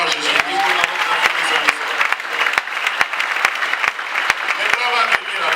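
A church congregation applauds and cheers at a worship service, steady dense clapping with crowd voices sustained throughout, loud and close.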